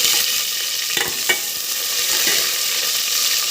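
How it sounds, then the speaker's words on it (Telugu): Two chopped onions fry in hot oil in a pan for a brinjal curry, giving a steady close sizzle broken by a few stirring scrapes, with no talking. "ఆనియన్ మంచి గోల్డెన్ కలర్ వచ్చే"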